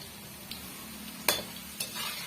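Garlic fries quietly in a pan for a pirandai pickle, a faint steady sizzle broken by a few sharp clicks of stirring.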